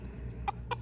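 Two short clucks from a chicken, close by, over a low steady background hum.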